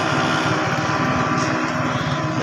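Motorcycle engine running along a main road, a steady buzzing drone with no breaks, loud and close throughout.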